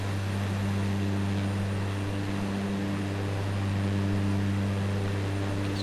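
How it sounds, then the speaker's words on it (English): Steady droning propeller engine of a Cessna Grand Caravan in Microsoft Flight Simulator, a constant loud hum with strong low tones and a broad airy wash, holding even throughout with no voices. "Okay, so now the plane is going. Seems to be gathering a lot of speed."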